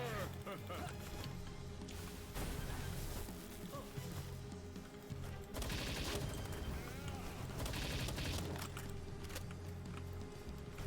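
Video game gunfire rattles continuously in dense automatic bursts, loud and close, with booming impacts mixed throughout and layered game sound underneath.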